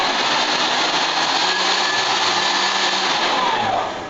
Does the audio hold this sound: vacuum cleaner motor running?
yes